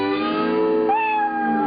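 Leroy, a house cat, gives a long drawn-out meow with a rising pitch partway through, loud and close with no talk over it.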